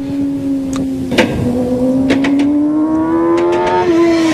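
A motorcycle accelerates smoothly out of a turn, its engine note rising steadily in pitch with a clean, even roll-on of throttle, close and loud without talk.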